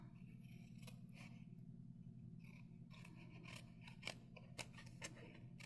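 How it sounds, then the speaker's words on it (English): Scissors trim a small edge off a folded paper card: quiet snips and crisp cuts, sparse at first and then quicker toward the end, close and faint with no talking. "I'm just going to trim this little edge off."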